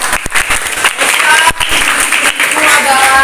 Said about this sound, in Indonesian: Sekarang tepuk tangan untuk Dira.